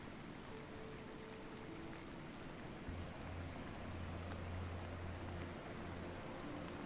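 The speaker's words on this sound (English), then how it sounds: "Rain can still be heard against the outer walls and roof" A steady, muffled wash of rain patters on the outer walls and roof of a wooden ship, heard from inside, dull and constant, with a low rumble underneath and no voices.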